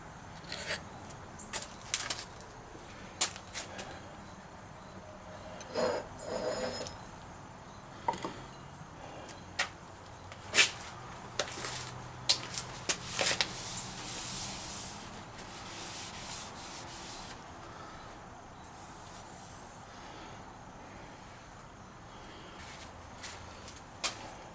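A surface grinder grinds the front surface of a steel chamfer fixture in a machine shop: a steady, gritty abrasive hiss runs throughout, broken by sharp intermittent scrapes and clicks, close and moderately loud.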